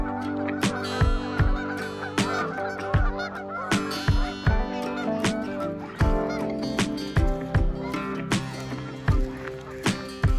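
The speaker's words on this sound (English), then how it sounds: "The queen goose turns around and attacks him." Geese honk loudly and repeatedly at a beach in Earl Rowe Provincial Park, with close, overlapping calls in an irregular rhythm throughout.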